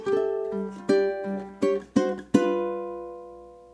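A ukulele plays a short blues ending phrase: several sharp strummed chords in a loose rhythm, the last one left ringing and fading, with no talking.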